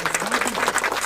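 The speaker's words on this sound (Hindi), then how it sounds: "एक बार जोरदार तालियां।" A crowd of students at a Jaipur defence academy event breaks into loud, sustained applause, dense clapping filling the whole stretch with voices mixed in.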